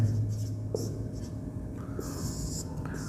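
Chalk or marker writing on a board during a class 12 determinants lesson: short scratchy strokes in quick bursts, fairly faint over a low room hum.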